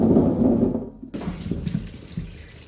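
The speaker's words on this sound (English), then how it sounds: "we've got 2 kilos of tomatoes to wash." Running tap water splashes into a sink as two kilos of tomatoes are rinsed for green tomato chutney, a steady close rushing that shifts to a brighter, broken splatter as the produce goes under the stream.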